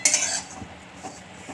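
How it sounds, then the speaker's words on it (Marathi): Moth beans (matki) are stirred while dry-roasting in a pan, giving a brief scraping rattle of utensil against metal followed by soft, sparse clinks and rustling. "प्रथम आपण ही मटकी भाजून घेणार आहोत."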